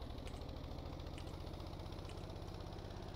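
A truck engine in the video game Stormworks idling with a steady, low, rhythmic throb and faint mechanical knocking, constant and even throughout.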